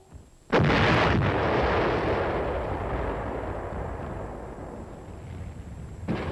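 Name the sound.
artillery fire in a Cold War-era Korean War film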